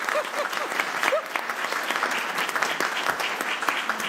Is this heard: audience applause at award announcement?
yes